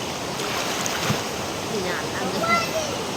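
Rushing water of the Tugnaw River in Barangay Mahaba, Cabadbaran City, Agusan del Norte, pours as a constant loud wash with faint voices barely showing underneath.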